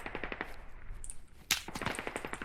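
Rapid bursts of automatic gunfire in the tactical shooter game Squad, a steady rhythmic volley of shots with one sharper, louder crack midway, heard close and without talk.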